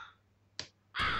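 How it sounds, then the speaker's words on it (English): Crows in the LISA role-playing game give a couple of short, harsh caws: a faint one, a brief sharp burst, then a loud, close, raspy call that cuts in at the end. "Fuck crows, I hate them."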